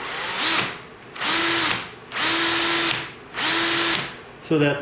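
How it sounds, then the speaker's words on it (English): A power drill drills into an AK-47 rifle stock in three sustained bursts separated by short pauses, loud and close, with the motor winding up and down each time. "I'm going to drill just down far enough"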